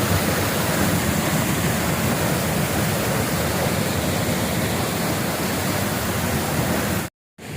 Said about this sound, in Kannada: ಫಾಲ್ಸ್ ಒಳಗೆ ಹೋದಂಗೆ ಆಗ್ತಾ ಇದೆ.